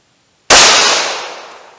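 A single sharp report from a .45 Auto Glock 41 handgun with a 5.3 inch barrel cracks out of silence, loud and close, then fades away in a long decaying echo.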